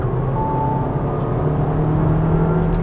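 An Audi Q3's engine drones steadily at speed from inside the cabin, a low, even hum with a faint rising tone, loud and continuous with no talk.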